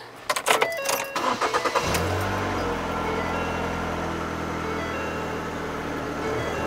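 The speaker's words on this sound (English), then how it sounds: "Now we'll start her up, make sure that we get oil pressure." A car's engine cranks with a few quick starter pulses, catches and settles into a steady, even idle right after an oil change, with a light metallic jingle at the start.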